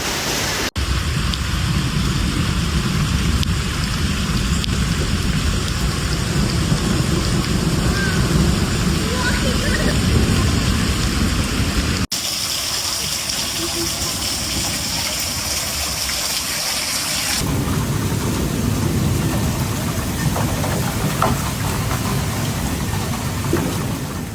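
Heavy rain pours steadily with a deep rumbling roar of thunder and storm noise during an Oklahoma hailstorm with intense winds, loud and continuous throughout.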